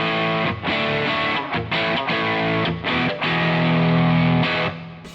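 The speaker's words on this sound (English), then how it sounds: "So the Ibanez Tube Screamer on its own sounds like this." Electric guitar played through an Ibanez Tube Screamer overdrive pedal alone, with loud, crunchy overdriven chords struck in several short bursts and let ring toward the end.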